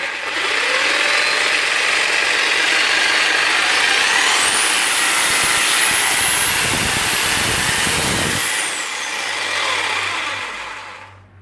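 A loud, steady high-pitched whine of a power drill running at full speed, continuous for several seconds before winding down near the end.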